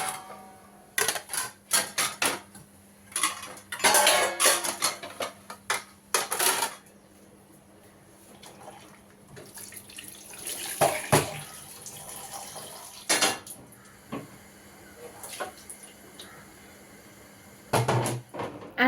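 Dishes, pots and utensils washed at a kitchen sink under running water, with irregular clanks, knocks and splashes in bursts and a steadier gush of water partway through, no talk.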